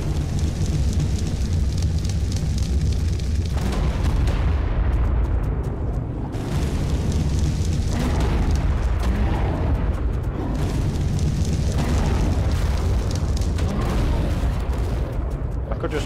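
Repeated bomb blasts in the Ark Primal Fear video game, loud booming bursts with rumbling low-end that recur across the whole stretch, with a person talking over them at times.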